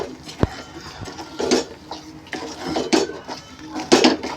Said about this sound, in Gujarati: બધા ભાગમાં ખાંડ સરખી આવે એ માટે બરાબર મિક્સ કરતા રહેવાનું